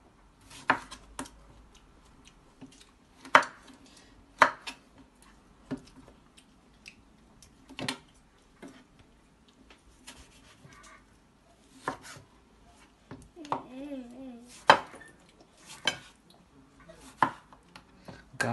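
Fresh garden-picked tomatoes being chopped for salad on a cutting board, with sharp, separate knife strikes coming irregularly a second or so apart, close up, with quiet gaps between them and a brief tonal squeak.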